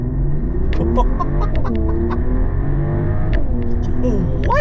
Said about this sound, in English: We have the exhaust open and we're going to do a little rip.